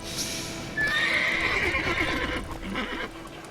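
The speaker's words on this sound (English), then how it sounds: "Geralt, can always count on his horse, Roach, help him in his travels." Roach, Geralt's horse in the video game The Witcher 3, lets out a loud neigh and whinny over soft clip-clop hoofbeats, brief and close.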